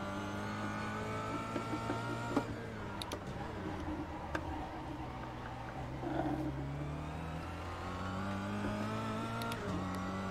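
A badly loaded, front-heavy Cadillac drives with its tires chattering, engine drone rising and falling steadily with occasional sharp ticks and clicks, a voice talking faintly over it.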